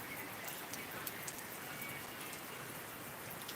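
Steady rain falling outdoors in a village, a soft continuous hiss with scattered faint drops, quiet and even throughout, no voices.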